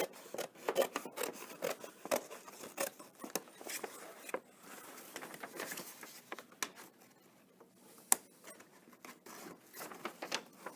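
Scissors cut through gift wrapping paper in quiet, uneven snips and rustles, with soft crinkling and rubbing of paper between cuts, faint and close and without talk.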